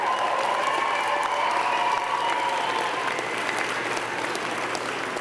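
A graduating class at the SFU Fall 2012 convocation ceremony applauds families, friends, faculty and staff, producing sustained, even clapping from a large crowd that eases slightly toward the end.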